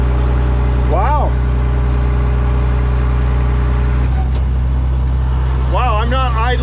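A John Deere JD890 tank engine idles steadily with a loud, continuous low rumble throughout, while someone talks briefly over it near the start and again toward the end.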